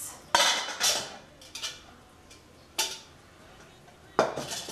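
A big cooking pot for Iraqi dolma is handled in a kitchen, giving several sharp metallic clanks and knocks spaced out with quiet gaps between them, fairly close and moderately loud.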